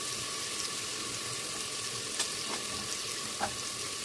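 Rice fries in a pan with spices, giving a quiet, even sizzle with a few faint scrapes and clicks from the stirring.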